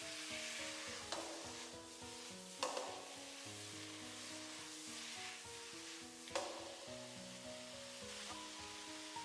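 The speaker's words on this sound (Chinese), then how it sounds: "把油豆腐和絲瓜加進來，快速的翻炒均勻" Fried tofu puffs and loofah stir-fried in a wok with a soft, steady sizzle broken by a few sharp spatula scrapes and tosses, faint overall with gentle tonal music running underneath.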